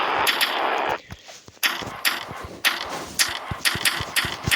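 Roblox video game gunfire rings out in a string of sharp, rapid shots with mechanical clicks, loud and close, broken by a brief lull before the firing resumes.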